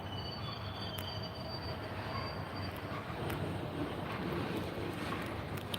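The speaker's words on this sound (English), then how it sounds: "it's not every day you see a train coming through a building" A train rolls slowly through a building in a rail yard at night, a steady, close rumble of wheels and cars with faint high squeals from the rails.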